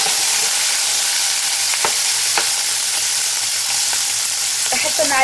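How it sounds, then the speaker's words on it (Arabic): Shrimp fries in hot oil in a pan, giving a loud, even sizzle throughout with a few scattered crackles and small utensil clicks. "راح اضيف باقي كميه الزيت اللي فضلت لي من تتبيل الروبيان، وعليها راح احط مباشره الروبيان"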